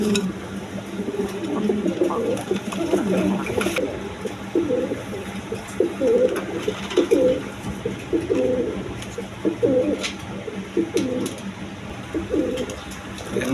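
Pigeons at a pigeon market coo steadily in low, rolling phrases, one after another, close by with a faint background hiss and no talking.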